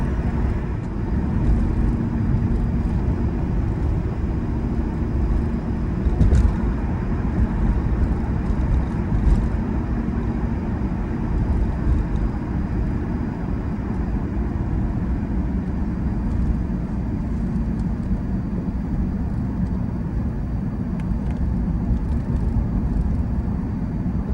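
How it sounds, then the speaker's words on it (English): Interior drone of a 1994 right-hand-drive Nissan President cruising smoothly down a highway, a steady low engine and road rumble with tire hiss and a few faint clicks, continuous and even throughout. "It runs pretty nice down the highway, pretty smooth ride."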